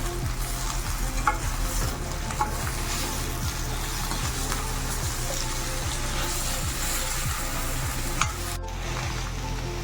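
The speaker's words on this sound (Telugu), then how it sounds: "కొత్తిమీర, పుదీనా, అల్లం వెల్లుల్లి పేస్ట్, ఇదంతా కూడా ఒకసారి కలిపి" Coriander, mint and ginger-garlic paste are stirred into Andhra-style jackfruit biryani as it cooks. A steady oily sizzle runs throughout, with regular scraping stirring strokes and no talking.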